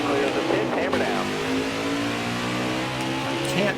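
Race truck in the NASCAR Heat 4 video game accelerating hard out of the pit lane at Pocono, a steady loud engine roar with rising revs throughout, with a voice talking over it.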